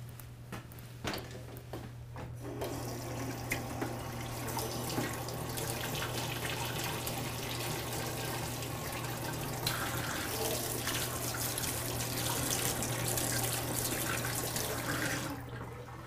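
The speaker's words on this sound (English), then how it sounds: "So there's our racking tube purged with water." Water rushing steadily through a cider racking tube to purge it, a continuous splashing flow like a running tap lasting many seconds, with a low hum underneath and a few clunks at the start.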